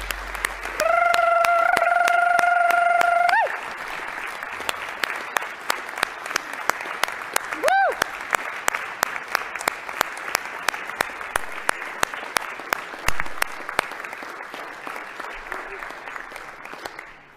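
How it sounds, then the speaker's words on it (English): Applause in the Oregon Senate chamber for a high school mariachi band, dense steady clapping that carries on for many seconds, with a sustained whistle-like tone near the start and a brief cry partway through. "Please, let's give them another round of applause if we can."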